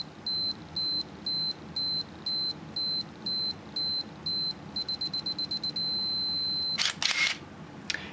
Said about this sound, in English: If I change the drive mode here and step it across to continuous, you can hear that works.